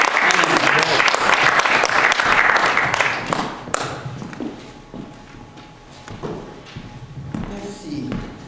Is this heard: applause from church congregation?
yes